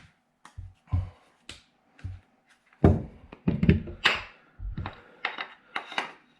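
Takedown pins pushed into a Foxtrot Mike FM-15 side-folding rifle, heard as a series of sharp metallic clicks and thunks, close and fairly loud, spaced irregularly with small taps in between.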